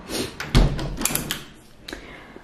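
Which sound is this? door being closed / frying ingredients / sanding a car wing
door being closed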